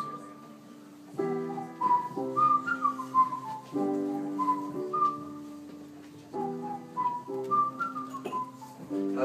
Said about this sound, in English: There's a whistle part in this song too.